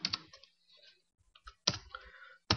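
Mouse clicks on a drop-down list in a web browser: a few sharp, close clicks spread through a quiet stretch, with faint desk and keyboard-like ticks between them.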